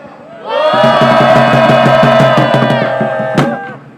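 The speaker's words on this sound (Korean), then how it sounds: "힘찬 함성으로 기자회견을 시작하겠습니다" A crowd at an outdoor press conference calling for peace on the Korean peninsula shouts a slogan together in a loud, sustained chant, with a rhythmic drum-like pulse beneath and one sharp accent near the end.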